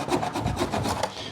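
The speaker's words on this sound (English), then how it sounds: "I'm filing against my finger to support it" Close, rhythmic rasping of a file worked back and forth against the plastic edges of a car stereo head unit, about eight quick strokes in steady succession.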